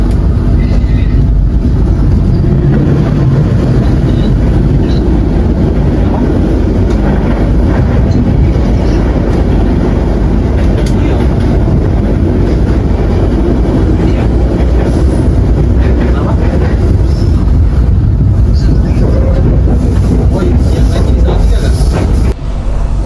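KA Kamandaka train from Cilacap pulling into Semarang Poncol station in the evening, a steady loud low rumble of rolling carriages with faint clatter heard from inside, continuous throughout.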